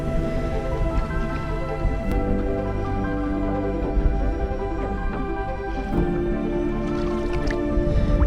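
A short, stubby 18-inch, 4-pound bass slips back into the water with soft squishy splashes and drips, close by, over a constant hum and no speech.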